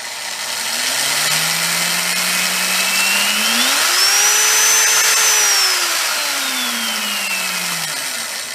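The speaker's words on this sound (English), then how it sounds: "Be careful, don't run electric motor too slow like this too much." An electric motor hums steadily, its pitch rising to a higher whine midway and then dropping back down to a low, slow drone.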